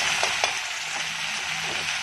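Vegetables, tomato and spices fry in a pan for a cluster bean curry, giving a steady close sizzle with a few faint stirring taps and no voices.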